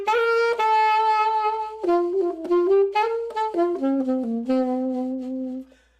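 A saxophone plays a smooth, lyrical 1950s-style jazz melody with sustained notes, sliding down into lower tones near the end, loud and close with no voices.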